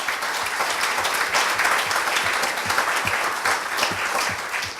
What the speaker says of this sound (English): if we can give them another round of applause for what they're doing